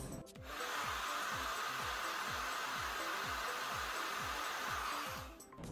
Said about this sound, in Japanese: 温風を当てたら次に冷風を当てます。